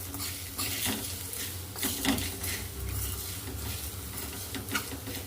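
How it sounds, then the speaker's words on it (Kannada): Chickpeas are stirred with tamarind juice in a pan over a low gas flame, with repeated soft scraping strokes and light clatter over a gentle background sizzle, close by and without talking. "ನಾನು ಗ್ಯಾಸ್ನ ಸಣ್ಣ ಉರಿಯೊಳಗೆ ಇದನ್ನ ಕೈಯಾಡ್ಸ್ಕೋತಾ ಹೋಗ್ಬೇಕು"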